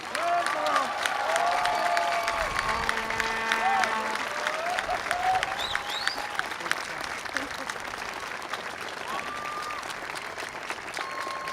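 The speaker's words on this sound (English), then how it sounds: "How about one more round of applause?" Sustained, dense applause fills a City College of San Francisco class of 2016 graduation ceremony, a steady clapping crowd with scattered whistles and cheers running throughout.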